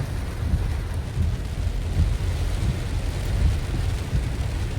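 Steady, dense rain falls during the monsoon season, its hiss continuous and fairly loud, with low rumbling swells of thunder underneath and no voices.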